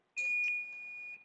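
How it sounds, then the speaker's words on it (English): A single electronic doorbell-style chime rings out clearly during a health-themed live stream, sustaining its bright tone for about a second before stopping, with no talking over it. "Oh, and I hear my bell."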